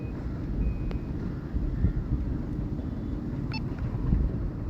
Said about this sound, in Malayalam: നല്ല കാറ്റ് പിടിക്കുന്ന ഇടമെല്ലാം.